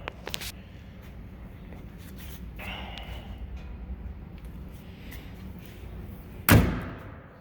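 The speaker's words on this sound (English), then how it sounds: "Doors shut nice. Don't have to slam them or anything like that." A single solid door shut of a 1931 Ford Model A sedan lands as a loud thud near the end, following a stretch of low rumbling background with faint scattered knocks.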